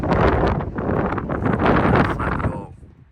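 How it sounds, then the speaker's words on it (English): Strong wind gusts buffet the microphone at a caravan awning in loud, rushing bursts that swell and ease, then fade out toward the end. "you can hear that wind coming through. It's pretty strong gusts."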